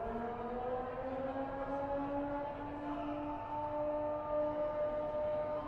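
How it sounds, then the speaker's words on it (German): A wailing siren in the video game Dead Synchronicity, a steady, sustained tone with slowly drifting harmonics, moderately loud and continuous with no talking over it. "Ich habe dieses Sirenengeräusch gerade gehört und habe überlegt, ob das hier bei mir gerade vor Ort ist oder ob es im Spiel ist"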